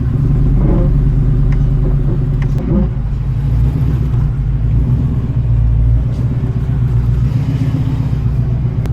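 An old classic car idling steadily during a test drive, a low constant engine rumble with faint mechanical clunks and rattles, close by and without talk.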